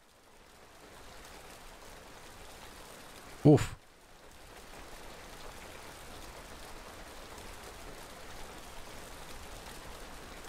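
Steady rain hiss from the video game Kynseed falls continuously at moderate level, with a brief loud thump and a short exclamation from a voice partway through.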